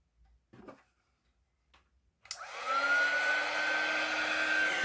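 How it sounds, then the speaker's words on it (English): A heat gun switches on after a few faint taps and blows hot air with a loud, steady, close whooshing roar and a faint whine, continuing to the end. "Then with my heat gun, just move that out of the way."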